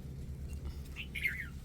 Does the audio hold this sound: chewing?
no